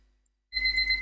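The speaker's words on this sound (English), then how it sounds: "There goes my timer." A digital timer alarm suddenly starts halfway through after near silence, sounding a steady, shrill electronic beeping tone that stays loud and close to the end.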